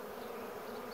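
A swarm of honeybees settling into a hive after being removed from a wall cavity gives off a steady, dense buzzing hum, close and unbroken through the brief moment.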